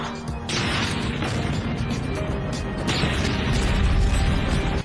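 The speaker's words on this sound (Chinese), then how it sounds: "所有飞机在顷刻间爆炸" Airplanes blowing up at an airfield in a wartime drama, with heavy booming blasts and crashing debris in two loud surges, a dense continuous rumble sustained between them.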